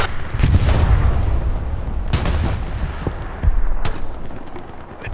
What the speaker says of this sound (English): They're being targeted by artillery.